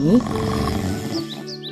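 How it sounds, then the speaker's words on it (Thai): A cartoon bear snores loudly inside its cave, a single deep, rasping, drawn-out snore voiced by a performer that fades toward the end. "พวกเขาก็ได้ยินเสียงกรนดังสนั่น ลั่นออกมาจากถ้ำของเจ้าหมี"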